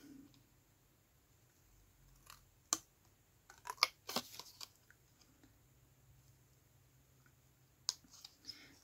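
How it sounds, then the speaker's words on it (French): Scissors snip through double-sided tape and foam tape in scattered soft clicks, a few isolated cuts then a quick cluster, quiet and close over a faint background hum. "vous allez vous retrouver avec plusieurs minutes de découpage"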